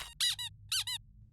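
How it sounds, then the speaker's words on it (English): A squeaky rubber dog toy ball gives two quick pairs of sharp, high squeaks, close and clear against near silence. "who wants a super duper squeaky ball,"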